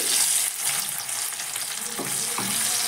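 Cashews dropped into hot ghee in a pan while making fried rice, a bright, loud continuous sizzle with faint stirring clicks and no talking, lasting a few seconds.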